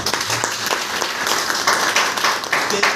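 Loud, sustained applause from an audience at a wellness business seminar in India, many hands clapping densely with a few sharper claps standing out and faint murmurs beneath.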